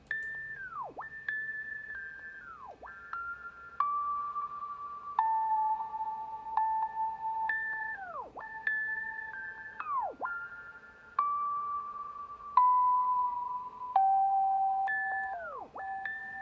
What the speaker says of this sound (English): Here's the melody for the memoriam bells.